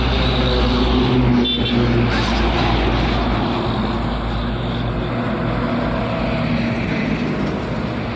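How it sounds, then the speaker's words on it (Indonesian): A convoy of five Hino and Mitsubishi Fuso coal trucks drives by on a road. Their engines give a loud, continuous close rumble, with a brief swell early on. "Ramai bosku ya, konvoy. Ada 5 unit truk batubara bosku, Hino dengan Fuso Mitsubishi."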